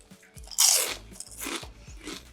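Loud, close crunching of a crunchy Australian snack being bitten and chewed, with several sharp crisp bursts in quick succession and no talking.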